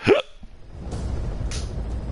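A single sharp hiccup sounds close and clear at the start, followed by a low rumbling background with faint intermittent hissing, set in the Metal Gear Solid V video game.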